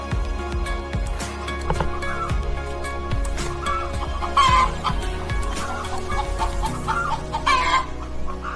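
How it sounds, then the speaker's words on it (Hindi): Several chickens cluck nearby in a village near a waterfall, with repeated short clucks and a few louder squawks over a steady outdoor background. "मुर्गियों की आवाज सुनाई देती है।"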